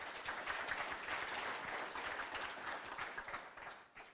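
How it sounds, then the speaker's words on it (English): An audience at a debate event applauds, dense even clapping at moderate distance that swells briefly and then tapers off near the end. "Round of applause."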